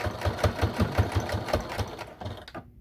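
A sewing machine back stitches on a tea bag packet, its needle thumping in a fast, even rhythm for about two seconds before slowing and stopping abruptly, loud and close.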